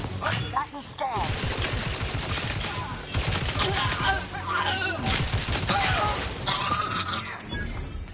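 Sustained sniper gunfire and rapid weapon fire from the video game Outer Worlds 2, dense and loud throughout with repeated sharp cracks and bursts, layered with combat effects.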